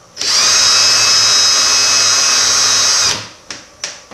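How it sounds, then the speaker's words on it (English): A power drill whines steadily at high pitch for about three seconds while drilling a hole, then stops, followed by two short clicks. "you drill the first hole"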